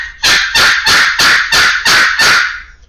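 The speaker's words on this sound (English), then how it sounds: "A pot call is going to do much better. You can cluck on it. You can yelp on it." Turkey pot call played by hand, a loud, close run of seven evenly spaced raspy yelps that trails off at the end, with no talk over it.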